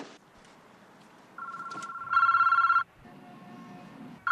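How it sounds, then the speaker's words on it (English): A telephone on a police-tapped line rings in loud electronic bursts, a short burst then a longer, stronger one, with a last ring starting at the end; no one talks over it. "The phone is ringing now, Sykes."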